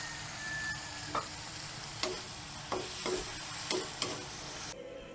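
Ham frying with tomatoes in a pan, a steady close sizzle broken by several sharp scraping stirs spaced about a second apart.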